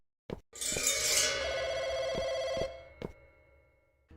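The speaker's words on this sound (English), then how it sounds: "Miss Zhao answers the phone." An old-style telephone bell rings with a sustained metallic trill in the Chinese folk horror game Firework, clear and close, followed by a few clicks and clunks as it stops.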